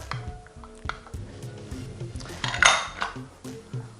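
Plain yogurt is stirred in a bowl with a utensil, giving soft squishy strokes and clinks of metal against the dish, close and moderately loud.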